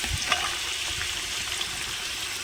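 Scored fish coated in masala, lemon and garlic fries in a pan in a village kitchen, a steady, loud hissing sizzle that runs the whole time with a few faint pops and crackles.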